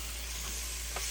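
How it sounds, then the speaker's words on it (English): Homemade Cajun seasoning is stirred into a cooking pot for crawfish étouffée, a brief soft sizzle with a quick scraping stir near the end. "Let's give this a stir."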